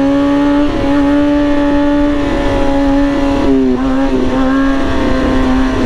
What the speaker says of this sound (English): I can drop this thing back and slow down without even using the brake because we use the engine brake.